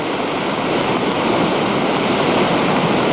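Floodwater from San Antonio Creek pours into the Ventura River during the 1998 flood, making a loud, unbroken roar of rushing water with a heavy broadband rumble and no pauses.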